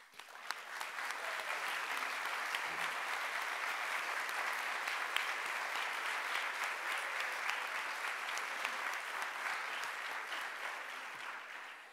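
Sustained applause from a university convocation audience as new faculty members and chairs stand, steady dense clapping throughout with no talk over it.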